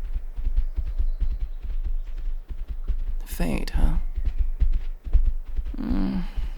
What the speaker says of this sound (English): We should be glad we have these horses.